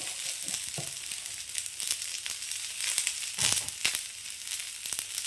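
Fish curry masala with curry leaves sautés in a pan, giving a soft, steady sizzle with intermittent stirring scrapes and clicks, fairly quiet and close, with no voices.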